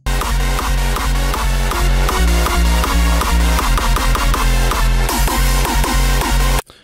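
A hardstyle track plays loud with a heavy distorted kick drum pounding in a fast regular beat under dense synth layers, cutting off abruptly at the end.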